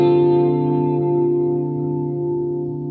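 Electric guitar played through an analog delay pedal with modulation, sustained chords ringing steadily with a wavering, tape-echo-like warble and trailing repeats, loud and alone.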